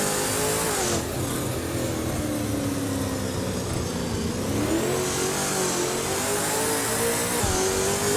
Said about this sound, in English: The V8 supercars seem to be holding tight with some quick laps